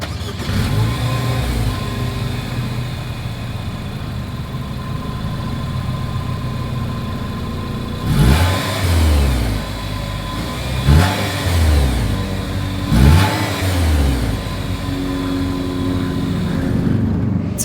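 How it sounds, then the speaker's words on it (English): A 2022 Nissan Rogue Sport's exhaust idling with a steady low hum, then three sharp revs rising and falling in quick succession, close by. "As always, here is that exhaust clip."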